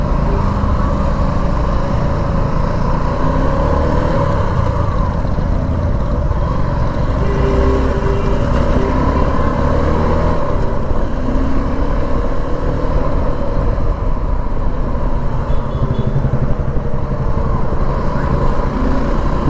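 A Suzuki V-Strom 250 motorcycle on a test ride, its engine droning steadily and loudly for the whole stretch, mixed with rushing wind and road noise and no pauses.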